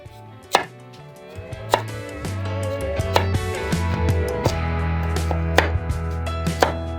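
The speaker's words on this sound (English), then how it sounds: "You just need 2 good-sized carrots. And we're just going to chunk them just like we did the onions." Two carrots being cut into chunks on a cutting board, with a few sharp knife thuds spaced out over a low background hum.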